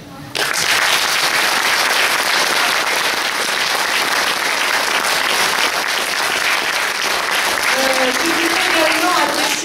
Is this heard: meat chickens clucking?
no